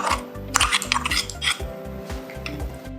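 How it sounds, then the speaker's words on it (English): Prawns, coconut and mustard-green chili paste for Bengali steamed prawns being mixed in a bowl, a quick series of close scraping and clinking strokes of a utensil against the bowl in an uneven stirring rhythm. "we'll take a bowl and mix all the ingredients together. The prawns, the coconut and the mustard and green chili paste"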